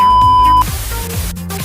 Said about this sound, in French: Mathias, pourquoi as-tu déclenché l'alarme des secrets?